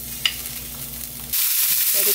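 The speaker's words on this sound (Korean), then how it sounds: "이렇게 소고기를 조금 굵게 다진 걸 넣고요. 볶아줍니다." Coarsely minced beef hits hot sesame oil with a sudden loud sizzle partway through, then keeps frying steadily with light stirring scrapes; before that only a quieter hum and a small tap.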